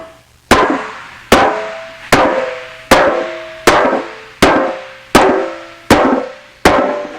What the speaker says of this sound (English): when you're knocking these down, you want to make sure that the metal doesn't tip over on itself